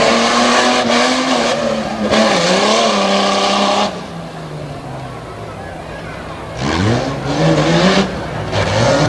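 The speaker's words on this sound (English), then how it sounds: "a wild finish for Josh Funk, a little bit sideways as he slides to a stop" A race car at Selinsgrove, Pennsylvania, slides sideways on the track, its loud engine revving and falling in surges, with a lower-pitched passage between bursts, up close and dominant.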